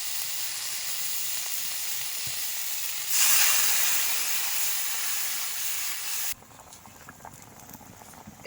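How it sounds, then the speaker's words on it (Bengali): Curry broth for a rohu fish dish boiling in a pan, a close, steady bubbling hiss and patter that swells louder midway, then drops abruptly to a quieter simmer. "দেখুন আমার ঝোলটা ফুটে গেছে।"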